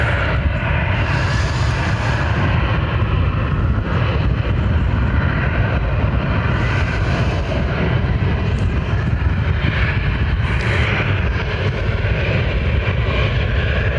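A Transavia Boeing 737 airliner in Peter Pan livery taking off from Lanzarote Airport: a steady, loud broadband jet roar that holds at constant strength throughout, with no talk.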